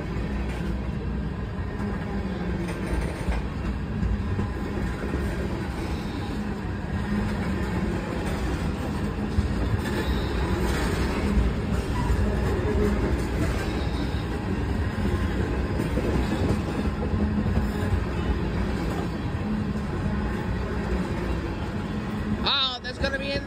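A CSX westbound local freight train passes as a steady low rumble and rolling clatter at moderate distance, with a person talking over it.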